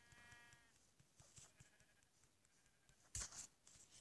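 A sheep in Minecraft bleats once, briefly and faintly, near the start. Then comes a short, sharper game sound effect amid otherwise quiet play.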